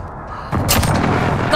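An artillery strike in a military video game: a sudden heavy boom that opens into a loud, sustained rumbling blast.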